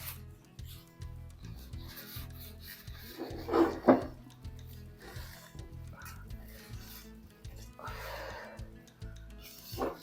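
Oil mango pickle ingredients are stirred together in a pan, giving soft, uneven rubbing and scraping sounds with a few louder scrapes in the middle, close and fairly quiet.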